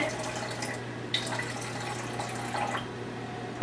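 Filtered water is poured into a container for soap making, a steady trickling splash with a few brighter drips over a low constant hum.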